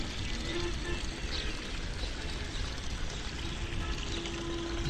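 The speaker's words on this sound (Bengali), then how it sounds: "উঁচু জমির পানি নিচু ক্ষেতে নামতেছে" After a night of heavy rain, water flows from higher ground down into a flooded jute field, making a steady pouring, rushing wash that is close and continuous.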